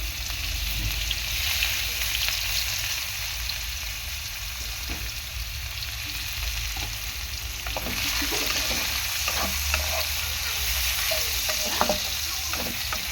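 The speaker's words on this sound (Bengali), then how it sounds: "পেঁয়াজ দিয়ে একটু নাড়াচাড়া করে নেব" Sliced onions fry in a hot pan of tempering spices for a small bele fish curry, giving a steady close sizzle broken by scattered scrapes and clacks of a spatula stirring them.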